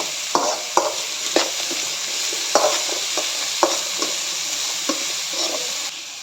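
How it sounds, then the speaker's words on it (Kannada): Vegetables with spring onion fry in oil, a steady close sizzle broken by sharp scraping stirs and clinks of a utensil against the pan at irregular intervals. "ಎಣ್ಣೆಲಿ ಫ್ರೈ ಮಾಡ್ಕೋಬೇಕು. ಫ್ರೈ ಆಗ್ತಾಗ ಸ್ಪ್ರಿಂಗ್ ಆನಿಯನ್ ಸ್ವಲ್ಪ ಹಾಕ್ಕೊಳ್ಳಿ."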